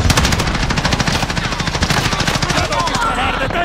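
Loud, sustained automatic gunfire from Call of Duty: Warzone, fast even bursts of shots close by for the whole stretch, with a voice speaking over part of it.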